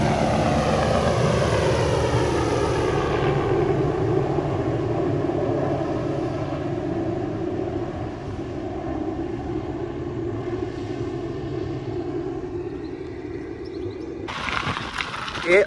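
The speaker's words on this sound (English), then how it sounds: "so the helicopter's just taking off" A loud helicopter engine drones and throbs as it lifts off near the Ashley River in the early morning, its pitch slowly sinking as it moves away before the sound cuts off abruptly.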